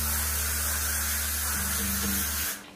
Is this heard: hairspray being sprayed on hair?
yes